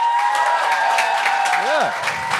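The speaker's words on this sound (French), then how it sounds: "Un tonnerre d'applaudissements pour Chris Dupéré!" Studio audience at a French-language television talent show breaks into applause and cheering for a guest, a steady roar of clapping with a voice calling out over it.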